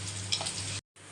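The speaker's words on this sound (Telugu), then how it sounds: "పోపు వేగిపోయింది." Whole spices, curry leaves and dried chillies for a tempering fry in hot oil in a kadai, giving a steady close sizzle and crackle that cuts out briefly near the end before resuming.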